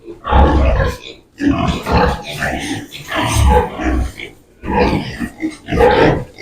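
Close grunts and snorts from a small spotted two-month-old piglet in short bursts with pauses between them, mixed with some handling noise.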